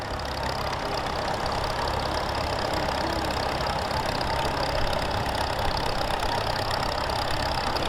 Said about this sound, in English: a 1952 Farmall Super C with an Archway 72-inch mower deck